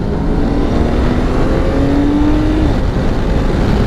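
A 2022 BMW K1600 GT motorcycle pulls away and accelerates, with a steady, loud engine drone and rushing wind noise that hold without a break through the whole stretch.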